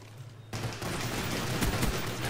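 Video game weapons fire in a dense, continuous burst of rapid gunshots after a brief quiet moment, loud and close with no talking over it.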